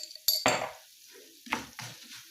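Sauce with red pepper powder stirred in a pan, a few sharp scraping strokes with a utensil over a faint sizzle, separated by short quiet gaps.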